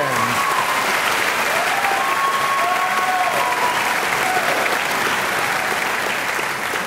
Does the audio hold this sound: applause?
yes